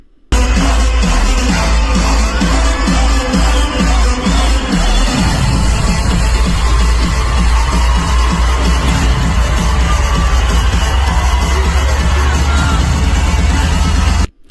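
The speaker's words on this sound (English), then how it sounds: "this massive celebration that lasted for several hours in Buenos Aires" A huge crowd celebrating in the streets of Buenos Aires, Argentina, a loud continuous roar of massed voices and noise that swells steadily, with a rhythmic pulsing chant or drumbeat in the first few seconds, sustained for the whole stretch.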